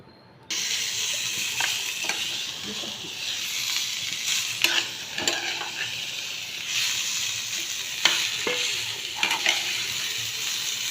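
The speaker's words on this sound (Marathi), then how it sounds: "थोडंसं तेल टाकलेलं याच्यामध्ये कढईमध्ये परतून घेत आहे." Bitter gourd sizzles steadily in oil in a wok while a utensil scrapes and clacks against the metal in irregular stirring strokes, close and clear.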